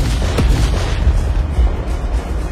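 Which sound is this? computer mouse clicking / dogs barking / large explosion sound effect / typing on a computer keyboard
large explosion sound effect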